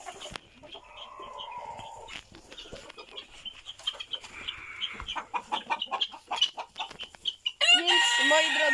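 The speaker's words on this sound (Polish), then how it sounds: "No a kurki liliputki jeszcze nie wychodzą, boją się." Bantam hens in a coop, clucking in scattered soft calls that grow busier and louder, ending with a sharper burst of squawking, with faint rustling underneath.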